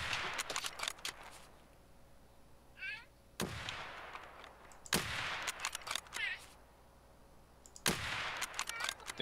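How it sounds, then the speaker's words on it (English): Sniper rifle shots in Escape From Tarkov ring out as three loud, sharp cracks spaced a few seconds apart, each trailing off, with a quieter shot early on and faint game ambience between. "I shot one by that little rock."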